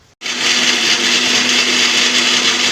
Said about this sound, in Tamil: இந்த தேங்காய் சீரகத்தை முதல்ல அரைச்சிக்கணும்